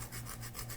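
Lemon zest grated by hand for a seafood pasta, a soft, quiet rasping rub in a few back-and-forth strokes, close by with no talking.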